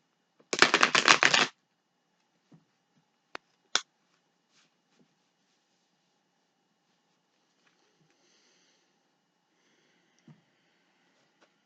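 A deck of Cosmic Tarot cards riffles in one quick burst of close, crisp fluttering lasting about a second, followed by a few soft taps and near silence.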